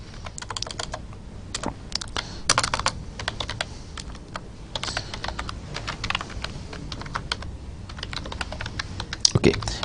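Steady computer-keyboard typing while writing C++ code, dense rapid key clatter throughout with uneven bursts and brief pauses, fairly close, with no voice over it.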